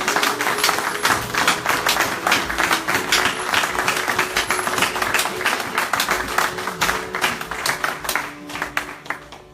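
A church congregation claps for the Lord in a long run of dense applause, many hands at close to middle distance, with scattered voices mixed in before it thins out at the end.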